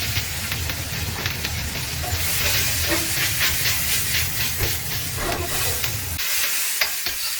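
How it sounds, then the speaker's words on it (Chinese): Spicy peppers hit a hot wok for stir-frying with pork, giving a loud, steady sizzle and hiss with light crackles and scraping, which drops away near the end. "放入尖椒"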